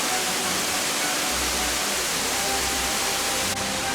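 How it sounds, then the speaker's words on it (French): The Glandieu waterfall cascading, a dense, continuous hiss of falling water heard steadily and fairly close, with no voices. "Le débit de la cascade varie au gré des saisons."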